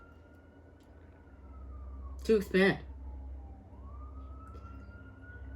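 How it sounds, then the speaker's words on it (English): A distant siren wails steadily, its pitch gliding down and back up, while a person speaks briefly over it amid low traffic rumble. "Confirmation right there from those sirens."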